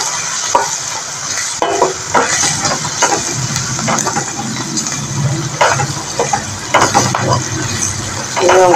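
Crushed dried red chillies frying and being stirred in a pan for a Kerala beetroot thoran, with steady loud sizzling, scraping stir strokes and occasional clinks throughout.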